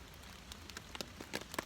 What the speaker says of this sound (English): you might be able to hear the rain